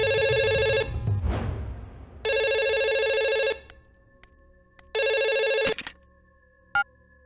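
A telephone rings with an incoming call in three long electronic bursts separated by pauses, loud and close, with brief clicks and knocks between rings and no speech.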